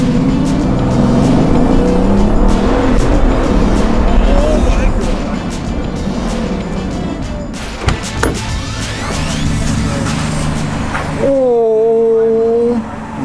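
A Mansory edition Bugatti Veyron accelerates hard, its engine note rising in loud, sustained harmonic sweeps that fill the cabin, with people talking excitedly over it and a brief high whine near the end.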